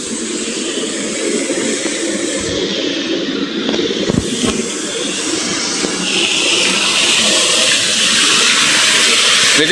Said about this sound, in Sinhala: ඔය ටික වතුර වහලා තියෙන්නේ පොඩ්ඩක් වතුර මේ පොඩ්ඩක් ස්පීඩ් වෙන හැටි ඔයාලට පේනවා ඇති.